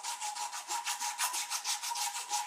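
A wooden knife handle is being sanded and rounded by hand, giving a steady, rhythmic rubbing of abrasive on wood with quick repeated back-and-forth strokes, close and moderately loud with no talking.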